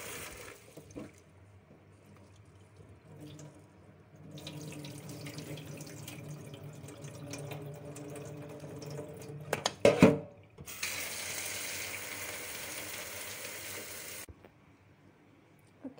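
Tap water runs into a sink to soak kudzu root soup ingredients, a faint steady trickle that swells into a louder gush with a brief clatter near the middle before cutting off, with no talk.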